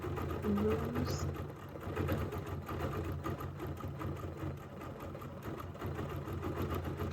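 Sewing machine stitching over couching fiber in a sewing room, a faint, steady mechanical whir that runs without pause at low volume.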